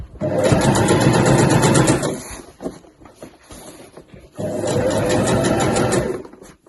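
A sewing machine stitches the base of a weekender bag, running in two sustained, fairly loud bursts with a quieter gap between them while the stitching is retraced into a back stitch.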